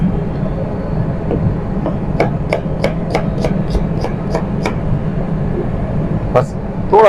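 A knife chops an onion on a cutting board during home cooking for chicken stir-fried noodles, a run of about ten quick, evenly spaced crisp taps, heard under steady background hum with someone talking.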